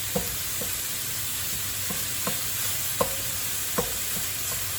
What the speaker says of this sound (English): I'm just gonna be browning the meat once it's all no longer pink.